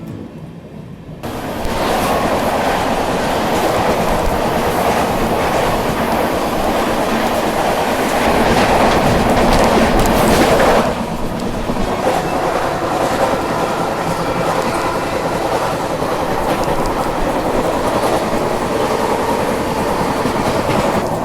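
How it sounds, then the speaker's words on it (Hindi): A train rumbles steadily with continuous rail noise and clatter, swelling louder for a stretch as the Mahanagari Superfast Express rushes past close by on the adjacent track, then settling back. "और कुछ ही देर में महानगरी सुपरफास्ट एक्सप्रेस के साथ अपनी क्रॉसिंग होने वाली है।"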